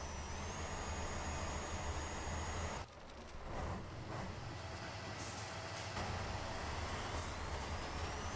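An off-road racer truck engine in the Spintires game, rumbling and straining at a steady loud drone that briefly cuts out, then resumes accelerating over rough terrain; no talking.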